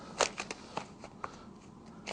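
Card shuffling in short, uneven bursts: a few crisp riffling rustles and flicks spread over about two seconds, close and fairly quiet, with no talking.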